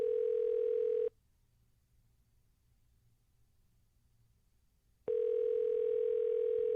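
Steady telephone dial tone on a radio call-in show, a loud continuous hum for about a second, then silence for four seconds before the same tone returns.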